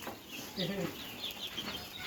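Chicks or hens of a coloured bird chicken breed call with short repeated clucks and chirps close by, a brief low cluck burst mid-way among scattered higher peeps over faint farmyard background.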